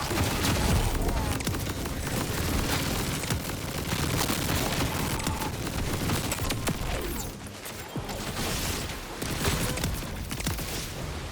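Onslaught weapon with a Jakobs roll in Borderlands 4 firing continuously, a dense and loud wash of rapid gunfire with booming impacts, dipping briefly midway before resuming.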